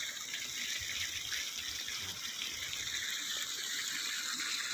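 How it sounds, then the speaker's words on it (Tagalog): Irrigation water flowing into shrimp ponds, a steady, loud rushing gush that continues without a break from start to finish, with no talk over it. "ayan po ang irrigation. Yan ay patubig sa Danawan."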